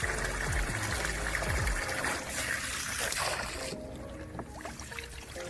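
Water rushes and trickles steadily while flushing out the fuel tank of a square-body crew cab pickup. The sound is close and continuous, with a splashing, gurgling texture that eases slightly partway through and carries no voices.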